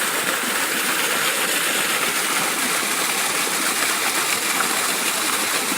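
Creek water pours steadily onto a homemade water wheel set at a beaver dam, making a constant broadband rush and gush close by that stays even from start to finish, with no talking.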